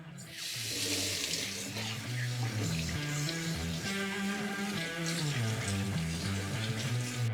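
Tap water runs steadily over a steak after a dry salt brine, a continuous splashing rush that fills the whole stretch at moderate loudness with faint voice-like murmurs beneath.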